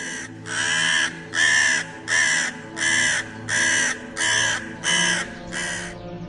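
A crow caws loudly eight times in a steady, evenly spaced rhythm, close by and with nothing else around it.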